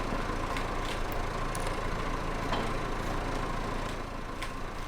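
Tractor engine idling in Farming Simulator 22, a steady low continuous hum with a faint higher whine, moderately quiet and unchanging over a few seconds, with no voices.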